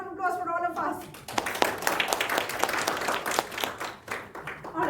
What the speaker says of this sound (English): Big round of applause for all of us.